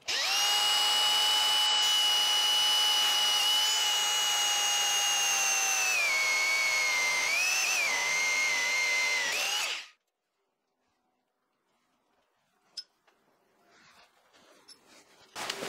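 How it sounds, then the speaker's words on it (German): Power drill cutting holes with a core drill bit for flush-mounted electrical boxes during house building, a loud steady whine lasting about ten seconds with the pitch wavering as it bites, then stopping to near silence with a few faint clicks and handling noises. "Und dann einfach auf ein Kreuz drauf und einfach mal bohren."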